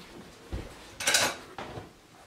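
A spoon is fetched in a kitchen, with a few brief metallic clinks and a louder rattle of cutlery near the middle, close and without speech.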